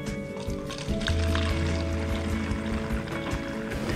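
Demineralized water, 250 milliliters, poured for a homemade window and mirror spray: a steady close liquid pour with a low filling tone that runs for several seconds without talk.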